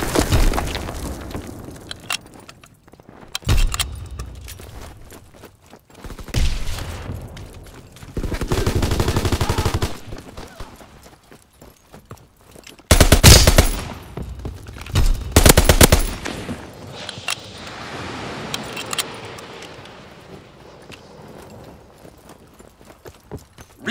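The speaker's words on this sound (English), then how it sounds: "Fighter pilot ready for strafing run." A fighter plane strafing run in Call of Duty WW2 multiplayer on the Gustav Cannon map: bursts of heavy machine-gun fire and loud impacts come in waves, with sharp, intense blasts near the middle and quieter battle noise between.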